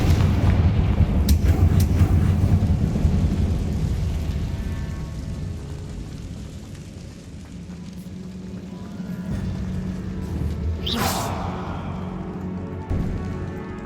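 Confringo blasting spells in Hogwarts Legacy set off several booming explosions, loud and close, with crackling debris and one sharp whooshing blast near the end, no talking.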